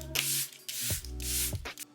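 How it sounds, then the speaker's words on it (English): Charlotte Tilbury Flawless Setting Spray misted onto a face in three loud, close hissing bursts from a pump bottle, each bracketed by short clicks of the nozzle. "Oh, it's Flawless Setting Spray. I'm gonna spray this on my face."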